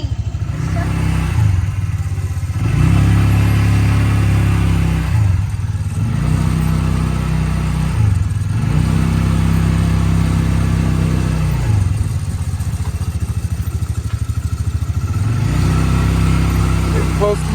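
A vehicle engine idling and revving in repeated low, throbbing cycles during a first driving lesson near a truck and brick wall, loud and close, with occasional rattling.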